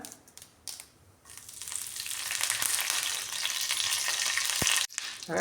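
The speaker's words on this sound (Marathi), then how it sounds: "जिरी मोहरी आहे ना व्यवस्थित तेलामध्ये भाजून घेऊया" Cumin and mustard seeds frying in hot oil, a steady bright sizzle that swells and holds, with a few soft stirring clicks and crackling pops at the edges.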